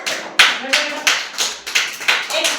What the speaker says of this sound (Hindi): तालियां बजाओ